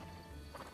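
Horse in the video game Breath of the Wild, brief soft hoof clip-clops with a faint whinny-like tone near the end, quiet and close.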